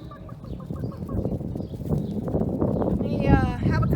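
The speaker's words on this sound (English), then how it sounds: "It's chicken feeding time." Chickens clucking and squawking on a farm at feeding time, a steady busy flock close by with overlapping calls and some background noise throughout.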